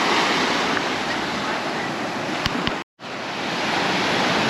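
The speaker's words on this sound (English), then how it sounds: "the waves are actually crashing against the rocks" Sea waves crash against rocks at Portals Nous, Mallorca, a loud continuous roar of surf with wind buffeting the microphone, briefly cut out for a moment near the end.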